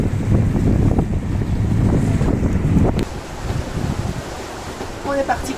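Sailboat running downwind on a starboard tailwind during an ocean crossing from the Canary Islands toward Africa, with loud gusting wind buffeting the microphone and rushing water, dropping abruptly to a calmer hiss of waves partway through.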